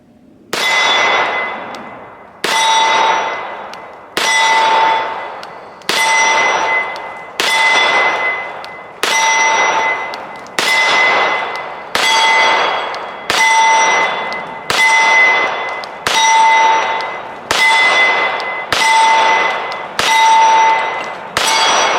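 An FN FNX-45 pistol fires about a dozen evenly spaced shots, each answered at once by a bright ringing clang from steel gongs that rings on and fades before the next hit.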